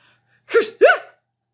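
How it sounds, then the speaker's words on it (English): A single sneeze, a quick sharp intake followed by an explosive burst, loud and close in otherwise silent surroundings. "And inside the house, someone sneezed."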